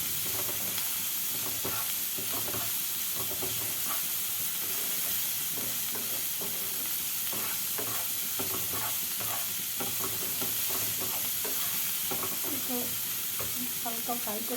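Sweet corn soup ingredients fry lightly in a pan, giving a continuous sizzle with frequent clicks and scrapes from stirring, steady and close throughout.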